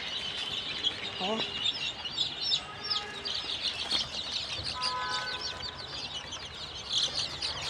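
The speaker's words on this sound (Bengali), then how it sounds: "আমার মুরগিগুলোর সকালে খাবার দিছিলাম, যে এখন মুরগি কত তৎপর দেখতেছেন।" Chickens cluck and chirp busily while eating their morning feed, a steady moderate chorus with scattered calls and some background noise.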